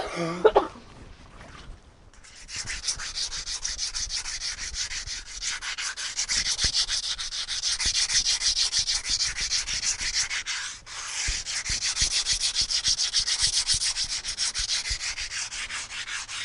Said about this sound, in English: I can't believe you're trusting us to help you sand this.